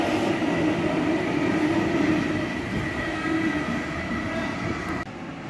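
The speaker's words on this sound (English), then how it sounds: "I think it's a test train for the new indicator screens." A Sydney Trains test train rumbles steadily through Liverpool Station nearby, its wheels and motors droning with a faint squeal, then the sound drops off abruptly near the end.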